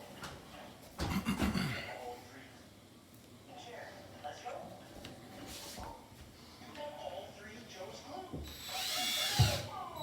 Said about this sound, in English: To drill a hole.